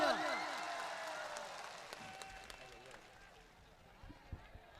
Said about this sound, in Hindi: भाई जिग्नेश मेवानी के लिए जोरदार तालियां